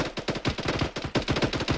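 Heavy machine gun fire during a military field training exercise: rapid back-to-back bursts of loud, close shots, with a short gap partway through and no speech.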